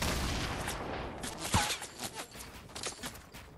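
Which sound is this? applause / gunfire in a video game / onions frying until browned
gunfire in a video game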